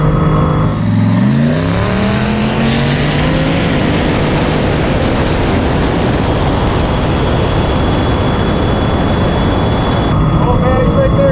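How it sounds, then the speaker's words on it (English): Turbocharged Mustang launching in a quarter-mile drag race, its loud engine rising in pitch through the gears with a whistling turbo note, sustained and close, while a voice talks over it. "he's coming on with good turbo power"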